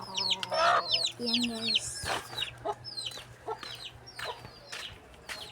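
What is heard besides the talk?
chickens clucking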